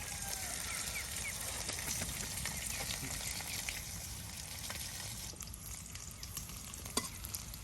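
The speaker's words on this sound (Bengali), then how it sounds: "এখানে কিন্তু এই যে আপনার সব কিছু সুন্দর করে তেলের সাথে ভেজে নেওয়া হচ্ছে" Onion, garlic and green chili frying in oil for a village-style taro leaf mash, a steady close sizzle with stirring scrapes throughout.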